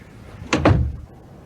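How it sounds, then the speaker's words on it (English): A door shuts with a single quick thud and a brief rattle of the latch, close by, followed by quiet. "And let's shut the damn door."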